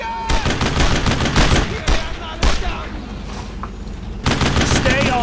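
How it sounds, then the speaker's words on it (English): Dense machine gun fire in a World War II shooter game, with sustained rapid bursts broken by brief gaps and heavy booming impacts, loud and close, with shouted voices mixed in. "I killed him! Machine gun!"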